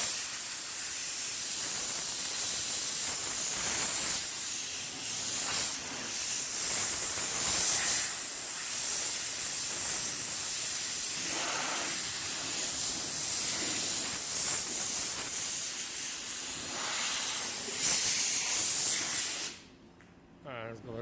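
Compressed air hisses steadily as it blows dust off a hail-damaged car body panel, a long loud continuous blast with small pulses that cuts off near the end, with a voice speaking partway through.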